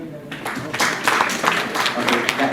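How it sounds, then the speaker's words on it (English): Audience at an event clapping, a dense scattered patter of many hands that builds after a quiet start and stays fairly loud, with some voices mixed in. "Can you help me clap for yourself?"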